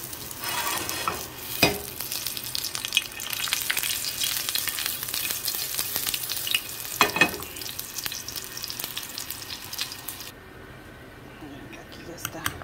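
Onion hits hot oil in a pan and fries with a constant crackling sizzle. Two sharper clatters break in along the way, and the sizzle drops softer toward the end.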